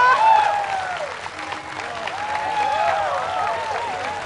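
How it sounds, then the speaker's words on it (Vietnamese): A game-show studio audience applauds continuously, a wash of many hands clapping, while bright chirpy tones and voice-like sounds rise and fall over it. "không biết là khán giả vỗ tay"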